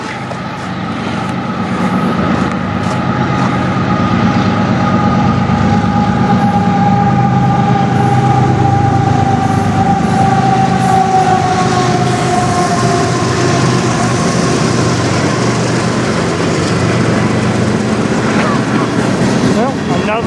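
At night in Sarnia, Ontario, a CN train hauled by two locomotives rolls past close by for the full stretch, a steady loud rumble of wheels and cars with a long tonal squeal or whine running through the middle. Someone speaks faintly underneath.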